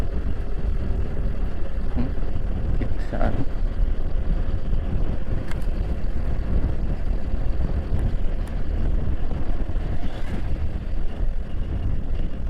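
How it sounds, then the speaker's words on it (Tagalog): Strong wind buffets the microphone on a road in Tibag, Sabang, Baler, with a steady, loud low rumble lasting throughout and a few faint passing sounds beneath. "lakas ng hangin dito"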